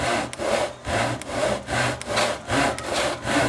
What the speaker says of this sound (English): I have this back saw here for a miter box